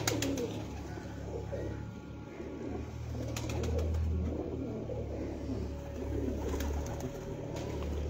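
Slate-grey pigeons coo softly and repeatedly among a flock, with low rumbling background noise and a few brief clicks, no talking.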